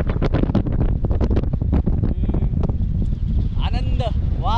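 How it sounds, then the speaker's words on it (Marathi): Strong wind blows on a hilltop at Khandala, buffeting the microphone with a constant low roar beneath close, continuous talking throughout. "काय वारा सुटलाय मस्त"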